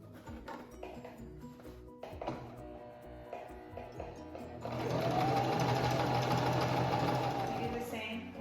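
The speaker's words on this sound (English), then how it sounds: "We sew here along the central line on the outer layer." A sewing machine stitches along the central line of the outer layer of a youth superhero fabric mask. After a few seconds of light handling noise it settles into a loud, steady whirring run that holds until the end.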